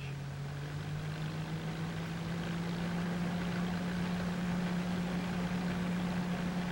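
A 1957 Allis-Chalmers D-14 tractor engine drones at a constant pitch, powering a harvester through the power takeoff, running continuously without change, close and moderately loud.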